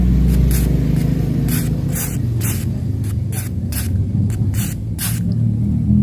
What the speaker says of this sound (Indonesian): Kemudian kita semprot nih di sini.